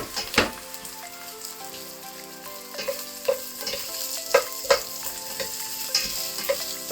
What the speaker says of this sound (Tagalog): Lalagay ko na yung mga onion, bawang, ginger, saka yung lemongrass.